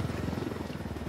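A helicopter in the video game Ghost Recon Wildlands thrums steadily with a fast rhythmic rotor chop, loud and continuous, with no voices over it.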